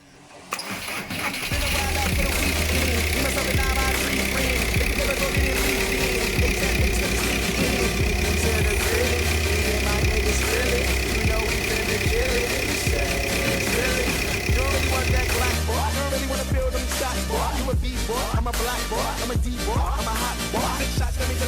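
A 2.0 TDI diesel car engine runs at a steady idle throughout, a continuous low rumble with a faint whine, close and loud, with no talking.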